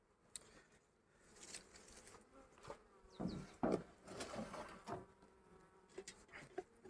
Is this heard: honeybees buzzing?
yes